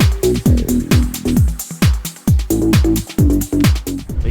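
Minimal deep house groove with a thumping kick and deep pitched bass pulses in a steady four-on-the-floor rhythm, loud and up front with no voices.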